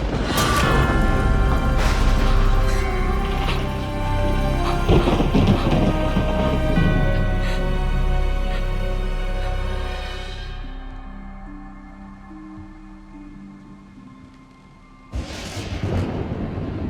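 Night thunderstorm in a French film, a heavy rumbling crash of thunder under dramatic music that fades, then a sudden fresh burst near the end.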